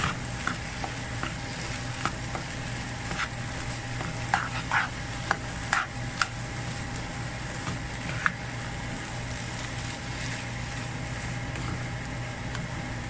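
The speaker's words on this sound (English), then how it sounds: "and then we'll mix everything together" Mung dal with salt and turmeric stirred in a pan over a low, steady sizzle, with scattered soft scrapes and light clicks of the spoon, close by and without talk.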